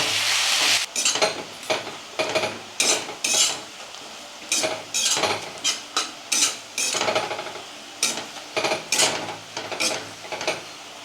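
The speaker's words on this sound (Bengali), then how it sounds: "ভালোভাবে লাল লাল করে পেঁয়াজগুলো আমি ভেজে নেব" Sliced onions and bay leaves frying in a pan for a country chicken and cauliflower curry, with a steady sizzle broken by repeated rhythmic scrapes and clinks of a spatula against the pan, close and with no talk.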